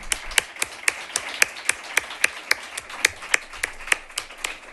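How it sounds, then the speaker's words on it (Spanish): Audience applause at a clinical talk on ageing and dementia: brisk, evenly spaced claps in a quick regular rhythm, fairly close and moderately loud, with no talk over them. "yo creo que se ha ganado un aplauso"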